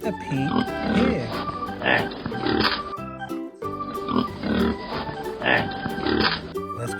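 A pig sound from a farm animal sensory toy: repeated grunting oinks in rhythmic bursts with a short pause midway, fairly close and clear, over about seven seconds.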